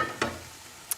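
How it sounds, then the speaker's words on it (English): Vegetables in a frying pan for teriyaki tempeh, sizzling softly: a faint hiss with two brief sharp crackles or clinks standing out. "my veg is off, it's still just sizzling away vigorously"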